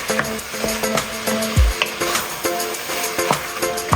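Meat sauce with sofrito for baked ziti is stirred in a pot, with a soft steady sizzle under repeated scraping strokes and a dull knock of the utensil, close up and without speech.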